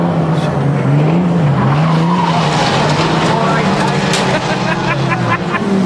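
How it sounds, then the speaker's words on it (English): Pre-1968 rear-wheel-drive cars race and skid at Birmingham Wheels, loud engines revving and wavering beneath squealing tyres, with someone talking over the continuous close roar. "You're racing pre-68 rear-wheel drive cars like a pre-68 getaway driver."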